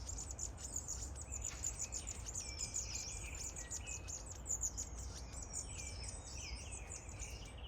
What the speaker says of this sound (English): I can just see the beautiful long-tailed tit.